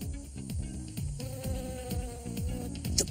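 Bees hum around bright yellow nectar flowers outdoors, a steady low buzz that swells and fades as they fly close, with repeated wingbeat drones over faint background music.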